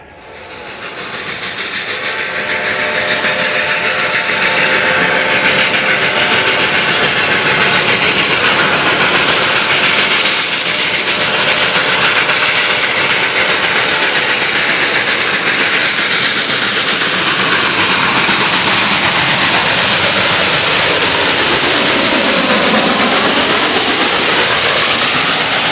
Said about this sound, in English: Many rail fans travel to the Reading and Northern to witness steam running hard and loud like what they used to back in the day.